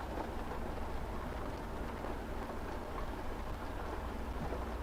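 Steady rain drums on a truck's cab and windows in Euro Truck Simulator 2, a dense unbroken hiss with low rumble, heard from inside the vehicle with no voices.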